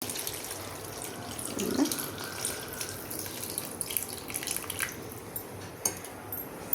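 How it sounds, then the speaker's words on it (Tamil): Tamarind water poured into a simmering Pudukkottai puli kuzhambu curry, giving a steady, soft liquid splash and trickle at close range with no talking. "இந்த சமயம் புளி ஊற்றிடுவோம்."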